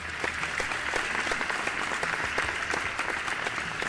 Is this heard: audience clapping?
yes